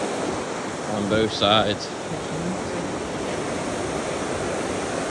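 Steady rushing of river water below a bridge on an old abandoned railway trail, a broad continuous wash nearby with someone briefly talking over it.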